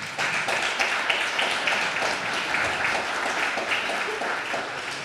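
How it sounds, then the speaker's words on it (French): An audience at an auto-cross event in Badefols-d'Ans applauds a club's officials, a dense, steady round of clapping from a crowd that holds at an even level for several seconds, close and without speech. "je vous demande de les applaudir, mes deux piliers."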